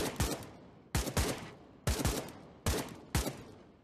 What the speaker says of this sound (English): Get some shots off, especially if they're camping upstairs.